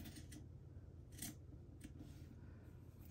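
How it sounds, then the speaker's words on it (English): Sharp pointed scissors snip out the corner of a piece of fabric, several quick close cuts over a quiet background with no speech. "then you're just going to snip out the corner"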